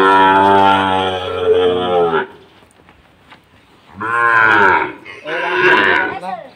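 Loud, close Sahiwal cattle moos at a busy livestock market: one long, drawn-out bellow, a quieter pause, then two more strong calls in quick succession.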